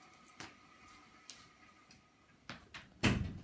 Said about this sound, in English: Sorry, just shutting the door there.